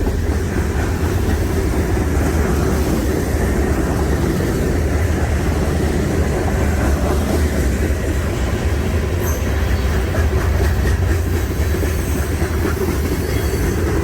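Norfolk Southern freight train rolling past nearby, a loud continuous rumble of wheels and railcars with steady clatter and occasional metallic squeal, sustained throughout with no talking.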